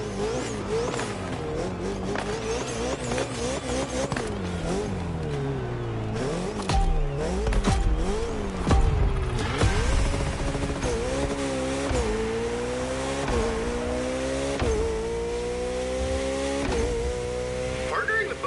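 Koenigsegg Jesko hypercar in a racing video game, its engine revving and shifting through repeated rising sweeps with tire squeal, loud and near, while a voice talks over it.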